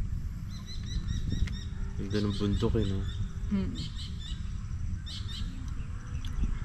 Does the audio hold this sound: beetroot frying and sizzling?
no